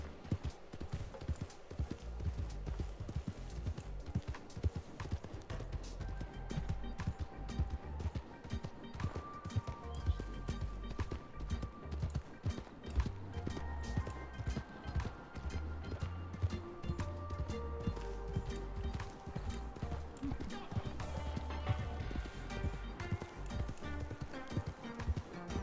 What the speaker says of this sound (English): It's very pretty horsey.